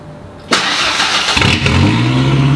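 A truck running without a muffler starts up abruptly after a quiet moment, then settles into a loud, raw, steady engine roar with a low rumbling drone, alone with no talking.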